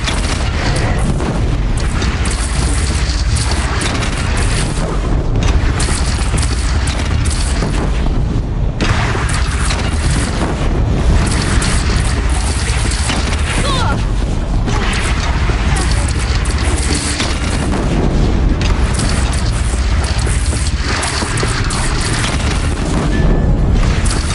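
Cannon fire erupts in a Horizon Zero Dawn battle, with a dense, continuous wall of heavy booms and explosions rumbling loudly for the full stretch amid chaotic combat noise and occasional voices.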